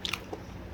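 Chewing on pig ear from Korean sundae blood sausage, a few close, moist crunchy bites in quick succession, with no talking.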